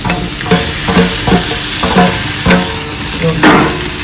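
Tomatoes and potatoes fry in a pan of spiced oil for a chicken curry, with a loud sizzle broken by rhythmic scrapes and knocks of stirring about twice a second, close up and without speech.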